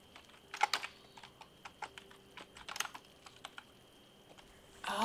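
Fingers tapping an American computer keyboard while typing French in a game, a steady run of light clicks with quick bursts, close and clear, then louder clattering at the end.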